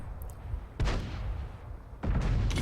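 Two heavy tank cannon shots from a Foch 155 tank destroyer in World of Tanks, each a sudden loud blast that trails into rumbling decay, the second arriving about a second after the first.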